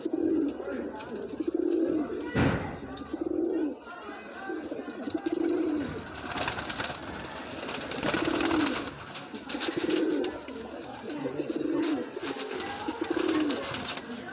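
French pigeons coo in repeated soft, low bursts with a steady rhythm, close by, while faint background noise and occasional rustling sit underneath, in Islamabad, Pakistan.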